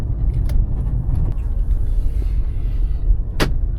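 A taxi car drives through Dnipro, Ukraine, with a steady, loud low engine and road rumble from inside the cabin and a couple of brief clicks.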